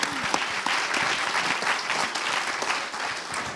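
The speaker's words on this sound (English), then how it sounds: "Give a big round of applause to our entire panel, by the way." Audience applause for a conference panel, a dense, steady wash of clapping with a few louder nearby claps throughout, sustained for several seconds without voices over it.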